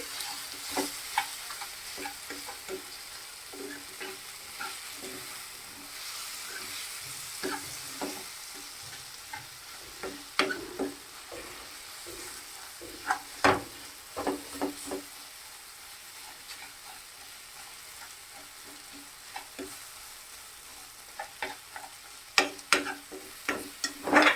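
Tomatoes frying and being stirred in a pan for dal khichdi, a steady soft sizzle under repeated scraping clicks of a spoon, close and fairly quiet with no talking.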